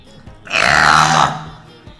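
A man lets out a single loud, drawn-out burp lasting about a second, with quiet sounds before and after.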